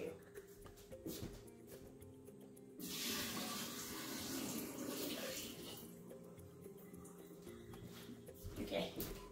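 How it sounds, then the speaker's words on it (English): Soaking water from sprouted fenugreek gushes and splashes steadily as it is poured out of a container, running for several seconds before tapering off, with a voice speaking quietly at the start. "I'm gonna go ahead and dump this water out"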